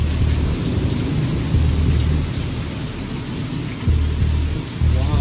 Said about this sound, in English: Wow, it's raining so hard.